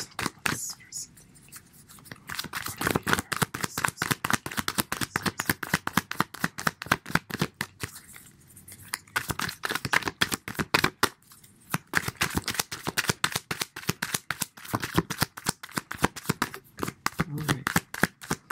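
Rapid, crisp riffling of tarot cards being shuffled again and again, bursts of flicking with short pauses between, close and clear.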